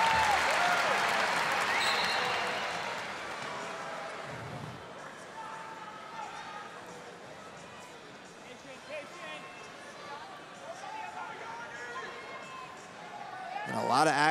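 Wrestling crowd at a match between Zain Retherford and Yianni Diakomihalis applauds and cheers loudly at first, fading into a steady background murmur under commentary, then swelling again at the end.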